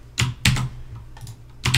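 Computer keyboard typing during cut-and-paste editing on a Raspberry Pi Java project, a few loud, close clacking keystrokes in short irregular bursts.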